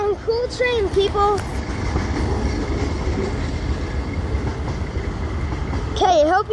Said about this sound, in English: Okay, that was one cool train, people.